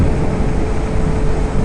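An electric motorbike ridden flat out on a road, heard up close as a continuous loud whir and rush of wind, steady throughout.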